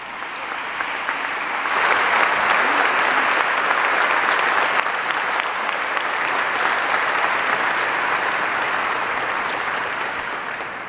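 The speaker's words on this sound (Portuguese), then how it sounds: "Vamos dar uma salva de palmas." A congregation at a pastoral church gathering applauds newly ordained priests: dense, sustained clapping that swells after a quieter start, then holds steady and fairly loud for about ten seconds with no talking.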